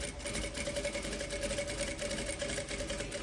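A sewing machine runs steadily, stitching a pocket seam in raw cotton (algodão cru), with a continuous even whir and a fine rapid needle rhythm, close and alone for the whole stretch.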